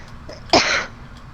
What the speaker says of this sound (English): that cough. That bronchitis cough